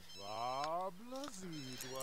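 A telephone rings in The Sims 3 video game, a soft electronic ring with rising and falling tones, faint under a person talking over the game.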